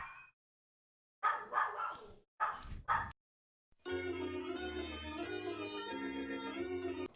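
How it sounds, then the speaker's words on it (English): Dogs bark from the background of a home when someone comes to the door, a few clustered barks and yips in short bursts separated by silence, followed by a sustained tonal drone. "Dogs barking in the background."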